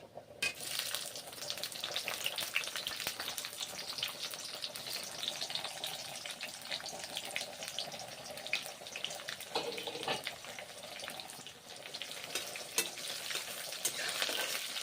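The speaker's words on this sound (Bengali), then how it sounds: "তেল গরম হয়ে গেছে, পেঁয়াজগুলো ভেজে নেব এখন।" Onions frying in hot oil for a ladle of egg and ridge gourd curry, giving a continuous bright sizzle with stirring and scraping in the pan, close and steady with no voices.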